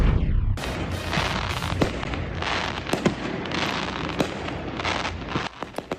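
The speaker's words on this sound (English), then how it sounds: "Fireworks all across the valley ringing in the new year." Fireworks explode in a dense, continuous barrage of crackles and booms, with a few sharper bangs standing out near the end.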